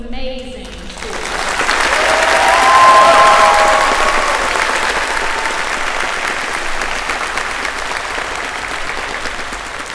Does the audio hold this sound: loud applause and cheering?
yes